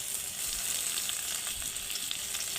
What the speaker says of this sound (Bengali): পেঁয়াজগুলি ভালো করে নেড়ে ভালো করে ভেজে